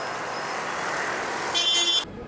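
A car horn toots briefly near the end amid steady traffic noise at an outdoor street campaign event in Chile, the honk loud and close before cutting off sharply.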